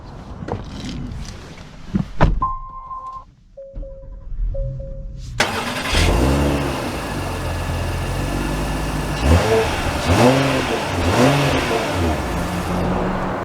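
A 2024 Acura MDX Advance SUV, heard from inside, gives a few soft chimes before its engine note rises steadily, with repeated swells in pitch as the car accelerates and climbs through the gears.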